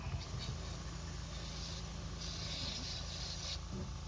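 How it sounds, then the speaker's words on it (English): A continuous, faint hiss of an aerosol cleaner sprayed onto Jaguar engine parts runs for a few seconds, with a low hum underneath. "So you just spray it"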